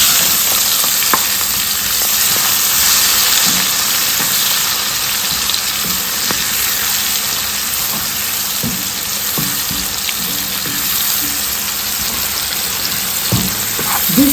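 Chopped onions fry in hot oil infused with bay leaf and curry powder, a loud, dense, steady sizzle with occasional stirring clinks close by.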